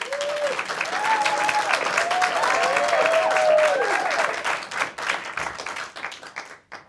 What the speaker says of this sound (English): Hold for audience applause